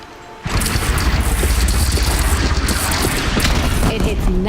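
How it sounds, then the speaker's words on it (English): Explosions and heavy weapon fire erupt in the action game Horizon Zero Dawn, a sudden loud blast opening into continuous booming, crackling combat noise with a voice faintly mixed in. "Explosions, explosions."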